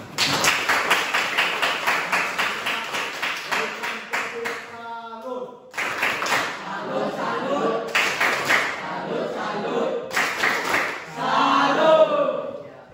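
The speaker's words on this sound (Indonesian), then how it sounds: "Ya, tepuk tangan." Classroom clapping in rhythmic bursts of claps, loud and near, pausing between rounds with some voices and chatter.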